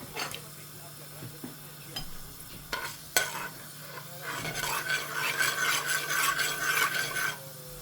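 Dried fenugreek seeds drop into very hot oil, with a few scraping stirs and light knocks at first, then a growing, steady sizzle and crackle that fills the second half.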